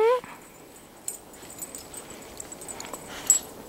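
Dogs romping in the snow, with faint yips and scattered jingling, soft movement sounds beneath light human voices.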